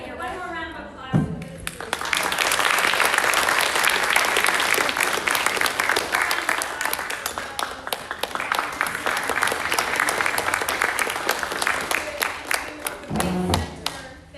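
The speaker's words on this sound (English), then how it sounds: "One more round of applause." An audience at a speech and debate community showcase breaks into loud, sustained applause lasting over ten seconds, with a brief voice heard before it begins and again as it fades.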